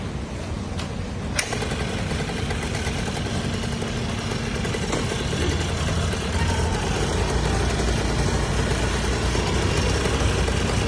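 A cycle rickshaw fitted with a bike engine idles close by, a continuous steady putter with a constant rough drone and no revving, running alone.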